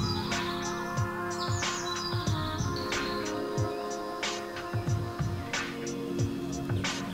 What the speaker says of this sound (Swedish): Hör ni, gärdsmygen, den är jättepyttelilla fågeln.